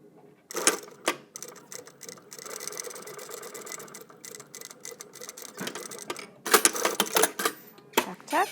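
Short bursts of rapid mechanical stitching from a sewing machine sewing a trouser fly bearer seam, stopping and starting in quick clicking runs with pauses between.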